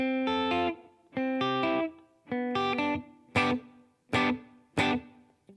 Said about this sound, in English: here's the short reverb, which is the ambient setting